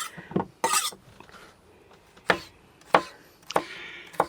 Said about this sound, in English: Now some of you are probably looking at Lee chopping away